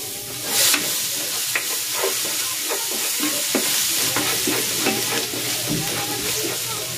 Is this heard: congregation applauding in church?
no